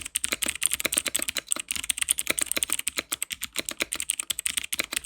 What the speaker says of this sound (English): This is the V800 68 key mechanical keyboard using blue switches, which just means it's going to be extremely clicky when typing.